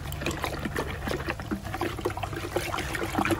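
Liquid fertilizer solution trickles and splashes unevenly into an old bucket outdoors, with a faint background hum under the pouring.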